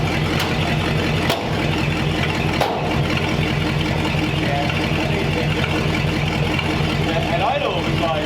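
A 1929 Ford Roadster Pickup with scrap-built exhaust baffles idles with a steady, loud low rumble and a few sharp knocks, while people talk over it.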